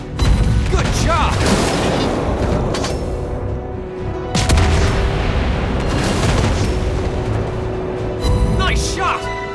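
Naval gunfire from a tier VII light cruiser, the USS Flint, in World of Warships Blitz: heavy booms and rolling bursts open the clip and return strongly around the middle, with game voice callouts over the battle din.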